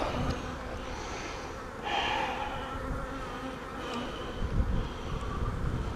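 A steady drone of honeybees buzzing around an open hive during an inspection, with a few louder passes as bees fly close and some breathy handling noise.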